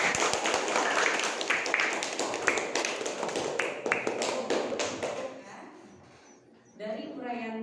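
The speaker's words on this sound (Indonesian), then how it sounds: "tepuk tangan untuk Mbak Abel." Classroom clapping for a pupil during an Indonesian lesson, a group of children patting hands in quick, uneven bursts for several seconds before fading out, with a voice starting near the end.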